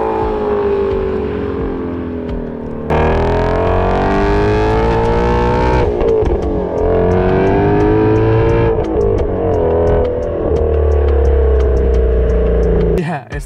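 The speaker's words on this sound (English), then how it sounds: "it's the exhaust sound." A Ford Shelby GT350's exhaust revs hard in repeated loud, sustained pulls, the engine note rising and falling between blips, close and dominant with someone speaking briefly around it.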